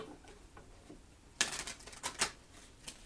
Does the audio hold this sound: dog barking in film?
no